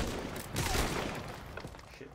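A short burst of dense, rattling gunfire in the Call of Duty: Advanced Warfare campaign on Veteran difficulty, with shots piling up loud and close with no pauses between them.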